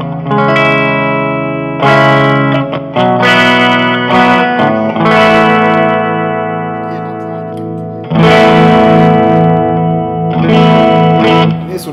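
An electric guitar through a Fender Mustang LT25 amp on its Bright Prince preset rings out sustained, shimmering chords with heavy distortion, chorus-like effects and reverb, loud and close with no talking.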